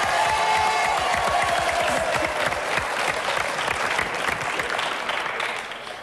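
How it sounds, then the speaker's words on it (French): Studio audience of a French television game show applauds a local group of guests, dense continuous clapping with a few cheers, loud and close at first and tapering slightly at the end. "Quelques applaudissements pour nos amis Vitellois."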